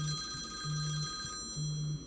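A phone rings with three evenly spaced electronic trill bursts, faint and alone over a steady background hum.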